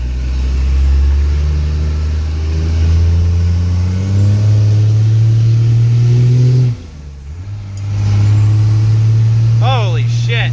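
A Dakota truck swapped to a 12 valve diesel with an S300 turbo drives on the road, its engine loud and close, droning and revving, dropping off briefly at a shift before pulling again, with a voice near the end.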